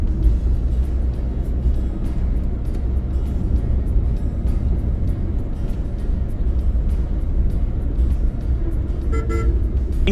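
A car horn toots briefly near the end over a constant low rumble of engine and road noise from a car moving through Bihar, India.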